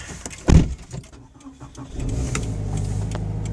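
A Scion FR-S engine cranks and fires with a sharp burst, then settles into a steady idle that continues close by and alone.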